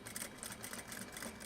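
A sewing machine stitches a zipper pouch in a quick, even mechanical rattle, faint but steady and close by, with no voices.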